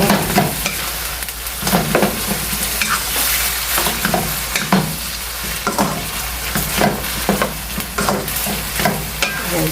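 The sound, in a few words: sautéing ground beef in a pan for lasagna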